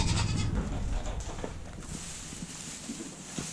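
Goats bleat a few times in short, nasal cries amid farmyard shuffling and light knocking, close by and moderately loud.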